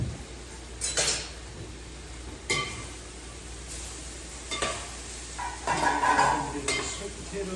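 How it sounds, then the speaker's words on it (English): Sweet potatoes stirred in a cooking pot, with a utensil scraping and clinking against the pot in several separate strokes over a faint, steady sizzle; no talking. "Give the sweet potatoes a stir."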